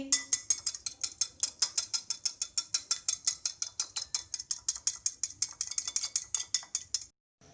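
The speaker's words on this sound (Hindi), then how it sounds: "अंडे फेंट लेंगे।" Eggs whisked in a bowl make a fast, even run of light clinks, several per second, close and clear, stopping abruptly after about seven seconds.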